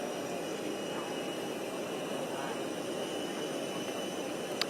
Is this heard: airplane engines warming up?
yes